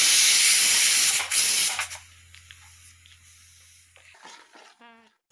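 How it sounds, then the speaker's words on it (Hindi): Masala with ginger and garlic for mutton kofta hisses loudly and steadily in a hot pan, then dies down into a quieter background where small sounds and a brief voice come through. "फिर हम इसे भूनेंगे क्योंकि हमने इसमें अदरक लहसुन तो पहले ही डाल दिए हैं।"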